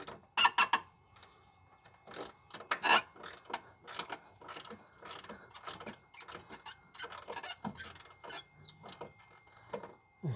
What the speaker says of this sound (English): You need to keep on working the bolt back and forth